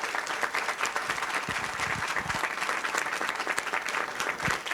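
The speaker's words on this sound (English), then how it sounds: "Let's give him one more round of applause." Sustained applause from an audience at a county council proclamation ceremony, steady dense clapping filling the room at moderate level, with no talk over it.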